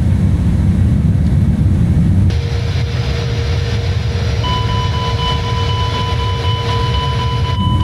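Airplane engine in Microsoft Flight Simulator roars steadily and loudly throughout, with the pitch shifting slightly partway through and thin high whines joining in over the constant drone.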